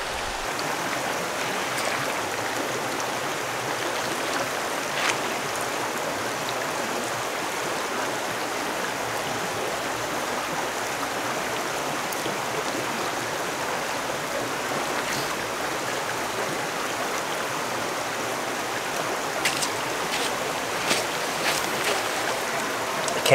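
A river flows past a wilderness campsite in the Sipsey Wilderness, making a steady, even rushing wash of water that stays unchanged throughout, with a few faint clicks and no talking.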